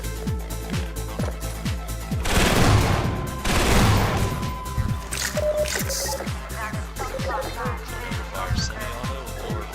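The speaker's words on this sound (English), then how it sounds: "Fire semi-auto or fire two-barrel burst" Two-barrel burst gunfire from a weapon in the shooter game Killzone: rapid repeated shots sound over a steady game backdrop, with two heavier, louder bursts near the middle.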